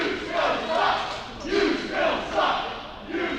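A wrestling crowd at a Caged Fury show jeers, loud swelling waves of booing and shouting that rise and fall in a steady rhythm without letting up.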